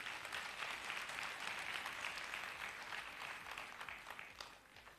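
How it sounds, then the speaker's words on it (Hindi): An audience at a stage event claps for a film director being welcomed on stage, a dense, even wash of applause that stays steady and fairly quiet for several seconds. "तो एक बार जोरदार तालियां।"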